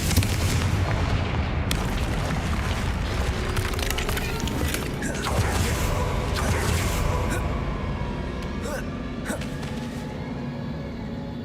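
A Confringo fire spell in Hogwarts Legacy bursts into loud booming explosions with rumbling debris and crackles sustained throughout, mixed with game combat sounds.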